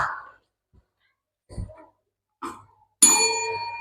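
A classroom bell strikes once with a bright ringing clang that decays slowly, following a few soft knocks and thumps, signaling the start of a student experiment activity; no one speaks.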